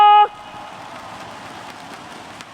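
Crowd applause fills Indonesia Arena at a Free Fire esports event: a dense, steady, hiss-like wash of clapping that follows a brief tone and holds without a break.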